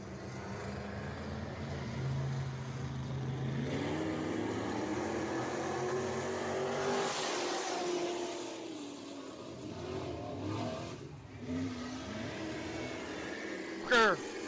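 Race cars accelerating at the green-flag restart at Deep South Speedway dirt track, a continuous engine roar across the whole stretch, with a commentator's voice over it and a brief sharp noise at the end.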